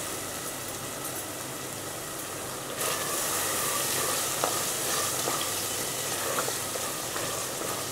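Onions and a chicken curry base frying in oil for a Tamil chicken kuzhambu, a steady close sizzle that jumps louder partway through, with a few faint stirring clinks.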